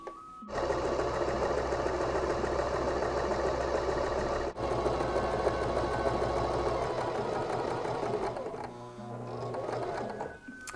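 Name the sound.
sewing machine stitching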